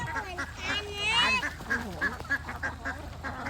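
Ducks quack close by in a rapid, nasal series, with a longer honking call near the start and several shorter quacks after, mixed with people talking.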